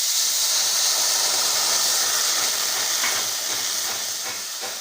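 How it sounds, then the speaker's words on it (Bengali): Water poured into a hot wok while making peanut khaja, bursting into a loud, steady steaming hiss that gradually fades, with no voices. "এখন গরম কড়াইয়ে দিয়ে দেব জল।"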